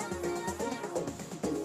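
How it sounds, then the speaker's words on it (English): A short stretch of music run through the phaser effect in Algoriddim djay, a swirling, sweeping tone moving through the notes. "Now this sounds like a phaser"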